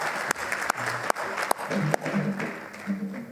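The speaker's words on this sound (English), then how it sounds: "Could you please stand and receive a round of applause?" At a plenary session of an interfaith leadership conference in Uganda, an audience gives a short round of applause, a steady patter of clapping with a few sharp, separate claps standing out.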